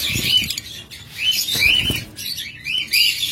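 A pair of pet lovebirds gives bright, close chirps and short squeaky calls in quick bursts, with a few soft rustles between them and no talk.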